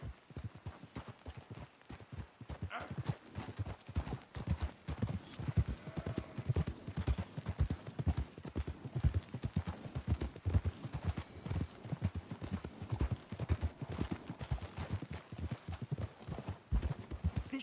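Horse hooves clip-clop in a steady trotting rhythm in Red Dead Redemption 2, close and continuous, with faint rustling and creaking alongside.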